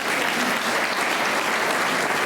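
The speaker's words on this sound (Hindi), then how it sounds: "बहुत अच्छा, अपने लिए जरा ताली बजा लो।" Steady, dense clapping from a gathered audience at a spiritual satsang in a village, filling the whole moment evenly and loudly with no talk over it.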